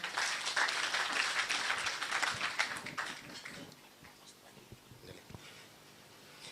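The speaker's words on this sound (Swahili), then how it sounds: "Tumpatie makofi mengine." An audience at a county best practice award forum in Taita Taveta claps in a loud burst of applause that fades over a few seconds, with murmuring voices continuing afterward.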